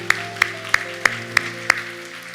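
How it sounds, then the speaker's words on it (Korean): A church congregation claps in thanks and glory to God, six sharp, evenly spaced claps on a steady beat over sustained organ-like tones. "하나님 앞에 영광과 감사의 박수 드리겠습니다"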